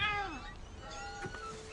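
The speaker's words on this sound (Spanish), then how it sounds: "Y ahí está el gato." A cat in the video game What Remains of Edith Finch meows a few times, moderately close, over soft ambient game sound.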